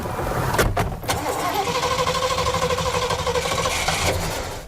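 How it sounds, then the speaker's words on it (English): A 1972 winter white Lincoln engine cranks over with a sharp mechanical catch, then catches and settles into a rough, pulsing running sound, close and fairly loud, before fading out. "The first time Richard Daniels cranked this 1972 winter white Lincoln"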